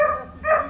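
A show-winning German dog barks twice in quick succession, loud and close, each bark short and harsh.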